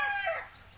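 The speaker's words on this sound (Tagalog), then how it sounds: "Ang ating manok." A young gamecock stag, bred from a bird bought at an expo, crows once in a muddy yard after a week of rain. Only the trailing end of the call is caught, a short, fairly close cry with no talking.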